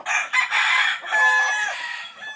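A fighting rooster under training crows loudly and close, one drawn-out cock-a-doodle-doo with a few brief clucks around it, with no other sound.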